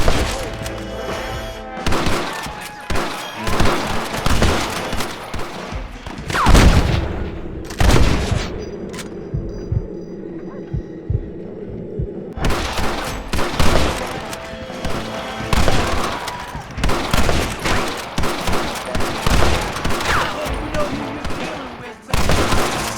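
Gunfire from a Red Dead Redemption shootout with snipers firing from windows, played on Xbox One X: dense volleys of loud shots and booms that pause briefly midway, then resume in rapid bursts over game voices.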